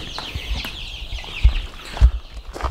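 Young chickens about one to two months old chirp and cluck steadily in a brooder on a small farm, with a few dull thumps near the mic.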